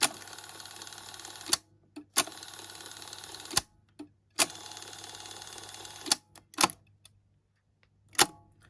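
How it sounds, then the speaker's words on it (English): A Technics RS676A cassette deck's rewind and fast-forward motor runs in whirring bursts of about a second and a half, broken by sharp mechanical clicks and clunks, faint and close. "you can hear the motor for the rewind fast forwards"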